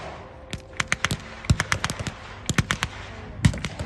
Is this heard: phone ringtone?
no